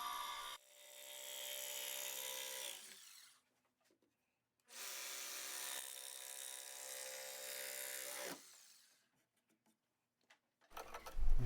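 Plywood being sawn by hand along a taped line for workbench drawers, with two long, steady bursts of rasping strokes separated by a pause, close and loud, followed by a few brief knocks.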